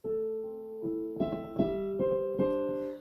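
Piano chords from a song played in a bouncy, swung rhythm, a short phrase of alternating long and short hits, fairly quiet and close.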